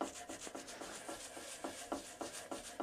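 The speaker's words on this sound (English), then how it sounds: "And then you need scrubbing." Scrubbing a floor to strip away old felt pad residue: a steady series of rough rubbing strokes repeats in an even back-and-forth rhythm, close and fairly quiet, with no voices.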